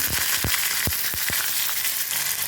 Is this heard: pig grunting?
no